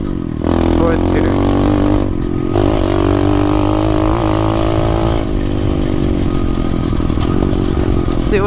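An SSR 125 motorcycle engine roars loudly and steadily while riding in fourth gear, droning up close with some wind buffeting.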